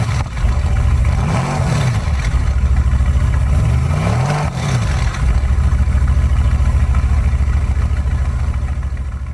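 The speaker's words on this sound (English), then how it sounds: "press the button and get full exhaust throaty note coming out of this vehicle." A 2018 Mercedes-AMG GT with a 550 hp engine and the exhaust opened up, giving a deep throaty rumble with a couple of rising revs over a loud, close, steady idle.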